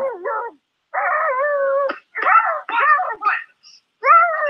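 A person imitates a dog, voicing a run of drawn-out howls and bark-like yelps in several bursts, loud and close, with brief pauses between them.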